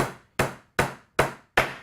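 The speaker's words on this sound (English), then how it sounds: "There's a panel pin, it's quite a small nail. Basically, same as before, you're going to knock it in." A light, delicate hammer knocks a small panel pin nail into wood: five sharp, evenly spaced taps up close, each ringing briefly before fading, with no talking.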